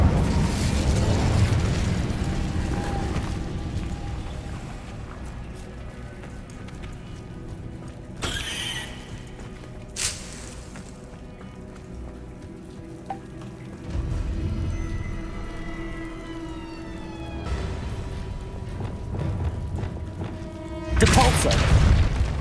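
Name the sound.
Incendio fire spell from video game Hogwarts Legacy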